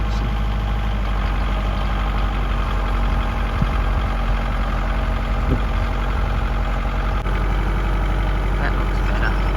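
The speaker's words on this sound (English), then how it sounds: "so he's going to flail mower the paddock" A tractor runs a flail mower across a farm paddock, its engine holding a steady, close mid-to-low drone with a dense mechanical clatter and no pauses throughout.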